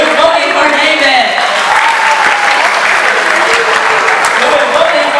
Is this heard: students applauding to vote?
yes